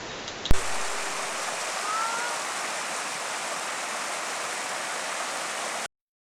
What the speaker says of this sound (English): we made a stop just to admire Fall River running through the woods